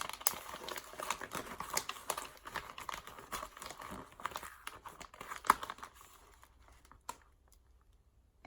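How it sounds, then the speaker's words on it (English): A paper card slides into a plastic pocket page, giving close crinkling, rustling and scraping in quick, uneven bursts that thin out toward the end, with a final sharp tap. "you can slide your card in"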